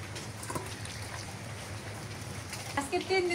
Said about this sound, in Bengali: আজকে 3 দিন থেকে বৃষ্টি হইতেছে